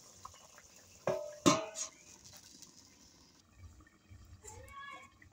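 A metal lid goes onto a pot of simmering fish curry with potatoes, giving two sharp clanks close by in a quiet kitchen, then faint rattles and soft bubbling.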